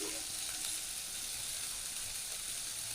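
Ash gourd peel fries in a pan with a steady, dense sizzle that holds unbroken from start to finish, close and even, with no talking.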